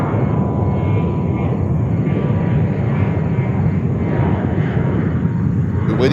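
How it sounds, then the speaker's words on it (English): China Airlines cargo plane taking off at JFK airport in New York, a loud, steady engine roar dominated by low rumble, close and continuous throughout without talk. "China Airlines cargo, call sign Dynasty, flight 5311, taking off to Anchorage."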